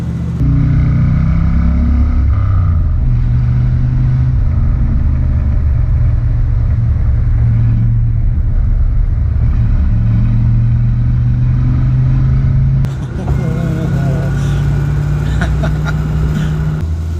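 A 1970s Iso Rivolta Lele with a 5.7-litre Ford Cleveland V8 driving fast, its deep engine drone steady and close for most of the run, shifting to a rougher, busier roar near the end, with faint speech at times.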